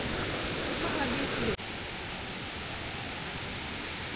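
Rushing water at Pearl Waterfalls, a constant broadband roar with a brief dip midway, faint speech sounds around it.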